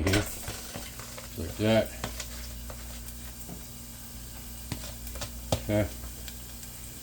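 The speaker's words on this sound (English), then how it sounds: "we got some olive oil heating up. So what we're going to do is we're going to add our garlic in here" Garlic hits hot olive oil and sizzles steadily at close range, with a few stirring scrapes and a voice speaking briefly in between.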